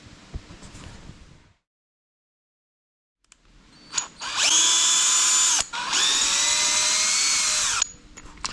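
A power tool cutting out part of a Hobao GTB RC car whines in two sustained high-pitched runs with a short break between them, following a quiet pause and some faint handling noise.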